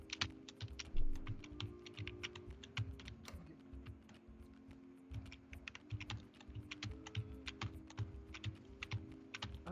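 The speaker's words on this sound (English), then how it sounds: "I can hear you just jamming keys trying to fly around." Rapid, uneven keystrokes on a computer keyboard during a Tiny Whoop drone racing session, a dense flurry of clacks running continuously over a low background hum, with no talk.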